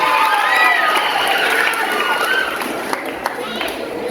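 A school audience at a student council candidates' debate claps and cheers in a lively, dense wash of applause and shouting voices that gradually eases, with scattered sharper claps near the end.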